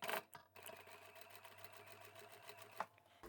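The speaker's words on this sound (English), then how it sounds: "Then flip it over and sew the side seams of your lining in place." A sewing machine stitches the side seams of a bag's fabric lining, running in a fast, steady mechanical chatter up close, with a brief thump near the start and another near the end.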